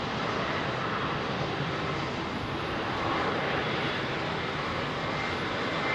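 An airliner departs runway 27R at London Heathrow, its engines producing a steady, broad, loud roar that stays constant throughout, with no voices present.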